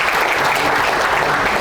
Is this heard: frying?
no